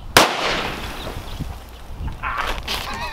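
One loud rifle blast firing a 700 grain Hornady hollow point bursts out at the very start, followed by rustling, movement and a noisy outdoor hum.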